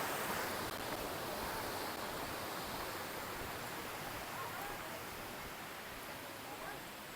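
Daranak Falls in Tanay, Rizal, pours as a steady broadband roar that fills the scene, fading very slightly over the seconds with no distinct voices over it.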